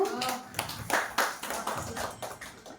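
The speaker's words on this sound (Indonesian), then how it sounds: "tepuk tangan untuk Bu Ika" Clapping from teachers gathered at an elementary school session, a modest scattered patter of hands with audible individual claps, mixed with some voices.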